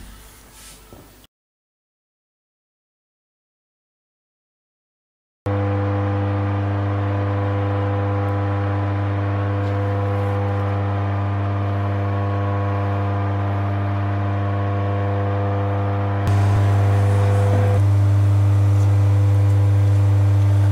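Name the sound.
hoover vacuum cleaner running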